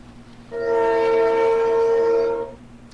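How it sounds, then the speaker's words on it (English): A train passes near a house by the tracks across the street, its horn blaring in one loud, sustained blast of about two seconds over a low rumble, then fading back to quiet. "That's my train."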